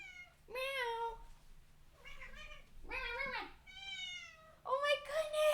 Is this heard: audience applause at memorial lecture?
no